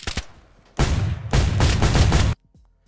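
Heavy bursts of gunfire in DayZ PvP combat, loud and sustained, with a short pop at the start and a sharp cutoff before quiet clicks.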